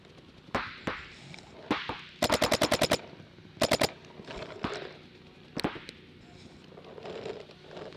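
Paintball markers fire in rapid bursts and single cracks during a practice game outdoors, with tight clusters of quick shots and scattered isolated pops at varying distances.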